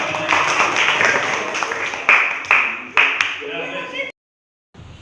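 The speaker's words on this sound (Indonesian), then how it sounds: "Tepuk tangan." A classroom of students in Indonesia claps after a group presentation, a dense burst of hand clapping with a few sharp louder claps, mixed with voices, before cutting to a brief silence.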